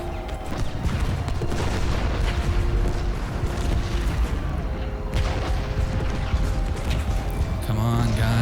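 Civil War cannon fire in Ultimate General: Gettysburg during the battle for Seminary Ridge: a dense, continuous barrage of booming shots and rumbling blasts that stays loud for the whole stretch.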